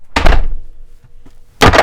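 A heavy old 1912 Jameson swing locker door thuds shut twice, each closing a deep loud slam close by, separated by a brief quiet pause with faint creaks.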